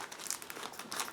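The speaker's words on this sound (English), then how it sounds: "Just give me a second to cut again this plastic bag." Close, crisp crinkling of the plastic bag around a Meng 1/35 ZSU-23-4 Shilka model kit's hull parts as it is cut open, a quick run of sharp rustles and crackles in a quiet room.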